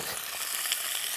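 Unpeeled garlic cloves sizzling gently in a pan over lowered heat, a soft continuous crackling hiss with no pauses, brief and close.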